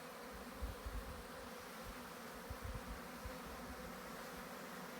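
Honeybees being installed into hexagonal deep hives, a faint, steady insect hum with soft bumps and handling noises, quiet and outdoors.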